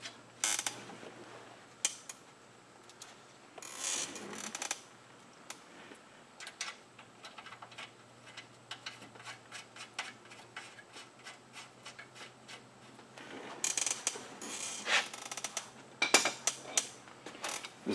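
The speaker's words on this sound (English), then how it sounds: "This is a nice proto wrench." A Proto ratchet wrench clicks in quick bursts while tightening the bolts of a Badlands ZXR 2500 winch mount on a Polaris, with a metallic pawl rattle that repeats in short strokes across the whole span, near and fairly clear, with no talk.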